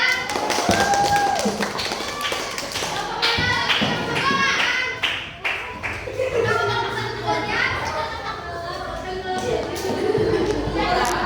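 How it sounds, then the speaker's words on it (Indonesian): Classroom clapping for a student group during an Islamic religious education lesson, irregular taps and claps mixed with children's chatter and voices throughout, fairly loud and close. "tepuk tangan untuk kelompok 3"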